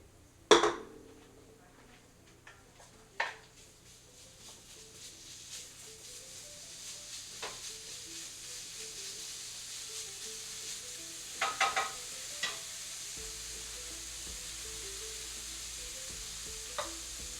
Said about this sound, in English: a nice sizzle